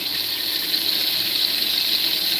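Steady rushing, hissing water, like a running tap, while flour-coated marinated chicken is dipped in water for Jamaican fried chicken; continuous and fairly loud, with no talk.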